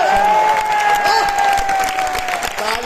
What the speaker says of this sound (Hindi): तालियां कम रह गई